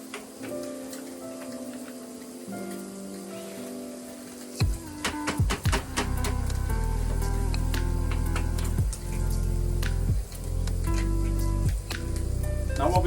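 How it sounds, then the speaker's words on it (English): An egg cracks into a hot Ridgemonkey XL pan alongside mushrooms on a Firebox G2 stove, and after a few sharp taps a loud, steady sizzle and crackle of frying takes over and continues to the end. "It's time to crack my egg in."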